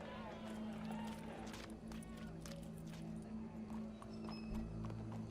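Horse hooves clip-clop at a gallop in the Red Dead Redemption 2 video game, a steady rhythmic patter running throughout, set under a low hum and occasional voices.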